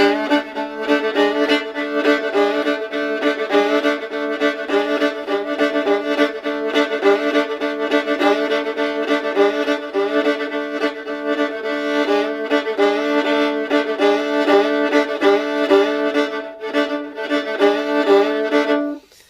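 A bluegrass or country fiddle plays a steady shuffle pattern with chromatic lower neighbor tones, bright sustained bowed notes with a rhythmic pulse carrying on alone and evenly throughout.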